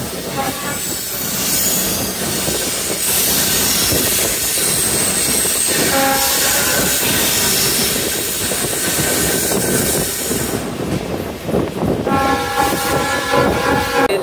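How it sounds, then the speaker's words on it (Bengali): A commuter train out of Dhaka rolls steadily past the Doyaganj rail gate with loud rumbling and rattling, metallic wheel squeal rising at times, heard close and continuous throughout. "আমাদের ট্রেনটা এখন দয়াগঞ্জ রেলগেট অতিক্রম করছে"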